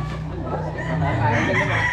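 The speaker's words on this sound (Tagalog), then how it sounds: "ito yung mga manok na ano, na gwapo at magaling" Young roosters, stag gamecocks, crow and cluck close by in a short, busy burst of fowl calls, with a voice faintly present underneath.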